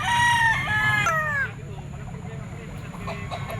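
A gamecock rooster, a two-year-old Golden Boy sweater at an outdoor market, crows loudly and close, its call tapering off after about a second and a half over low background chatter and crowd noise.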